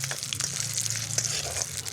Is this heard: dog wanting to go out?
no